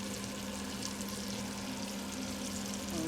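Butter sizzling and frying in a pan while cooking kasuri chaas murg, a steady soft crackle that stays even throughout with no talk over it.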